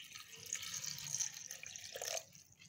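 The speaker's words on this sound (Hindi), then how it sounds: "पानी इसमें ऐड कर रही हूँ मैं तकरीबन 1 गिलास।" Water poured from a glass into a jug holding sliced cucumber and ginger, a soft continuous splashing trickle that rises and then stops, quiet and close.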